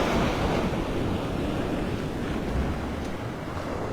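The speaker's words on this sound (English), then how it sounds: "These waves." Surf rolls in on Vanderbilt Beach in North Naples, Florida, on a Sunday morning, a constant loud wash of breaking waves mixed with gusty wind buffeting the microphone.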